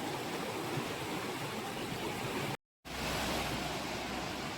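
Continuous rushing water, a steady broadband wash like a flowing river in Idukki, Kerala, interrupted once by a brief moment of silence.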